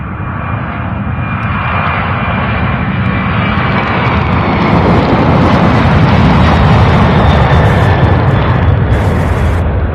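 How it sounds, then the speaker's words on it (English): A Boeing 767 jet takes off from runway 17 right at Louisville International Airport, a powerful roaring rumble of jet engines that builds and stays loud and close throughout. "So the 7-6 heading to Jacksonville, taking off from 17 right."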